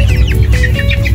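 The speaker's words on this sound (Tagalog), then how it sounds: "Ano manok yan pre? Silky chicken." Silkie chickens cluck in a chorus of short chirpy calls over a loud, busy farmyard background, close by and continuous for just over a second.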